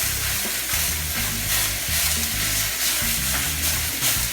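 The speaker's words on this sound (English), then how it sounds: "I like doing one of these just to chop up the meat a little bit" Meat for low-carb lettuce tacos fries in a pan while a utensil breaks it into pieces, making a continuous close sizzle with stirring scrapes and a low hum underneath.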